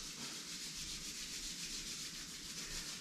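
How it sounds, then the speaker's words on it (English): Palms rub briskly together in a steady, dry, hissing friction sound, close and continuous throughout, with no speech. "Rub your palms"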